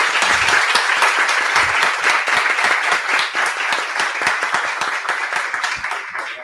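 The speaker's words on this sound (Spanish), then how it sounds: "Un aplauso, por favor." An audience applauds after a talk on a health insurer's service culture. The clapping is loud and sustained throughout, with individual claps standing out, and it eases off slightly toward the end.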